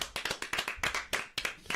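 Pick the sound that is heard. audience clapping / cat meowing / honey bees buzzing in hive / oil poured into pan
audience clapping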